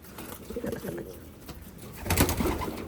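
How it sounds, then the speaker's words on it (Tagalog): Racing pigeons coo softly in a loft, several low rolling calls overlapping close by, with a louder burst near the end and faint rustling in the background. "Ayun si Tiger 1 mga kalapatids."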